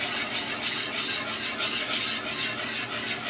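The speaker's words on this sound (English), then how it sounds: "I'm going to take a wire whisk and whisk it because I don't want any lumps to be in this gravy." A wire whisk scrapes and swishes rhythmically through gravy thickening in a pan, a quick repeated rasping stir heard close and fairly quiet, with no voices.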